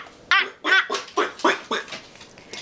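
A young child imitating a duck with a run of about eight nasal, voiced quacks in a steady rhythm, close and fairly loud.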